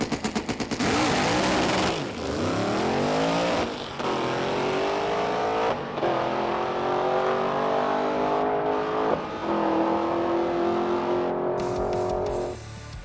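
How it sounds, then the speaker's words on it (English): A drag race car roars through a full pass down a drag strip, its engine screaming loud and close with rising revs across several gear changes, holding a strong steady drone for about twelve seconds before easing off. "I'd like to make one more pass, at least down the drag strip"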